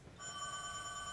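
A cordless telephone rings with a steady electronic trill that starts abruptly and continues at a quiet level in an indoor room.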